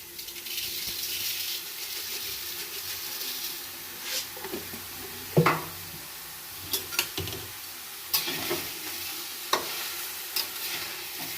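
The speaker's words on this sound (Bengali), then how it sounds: "চিনির সঙ্গে আমগুলো ভালো করে মিশিয়ে নিচ্ছি" Raw mango pieces are stirred with sugar in a pan for a sweet-sour mango pickle. A steady, wet, close rustling mix runs throughout, broken by occasional sharp clinks of the utensil against the pan.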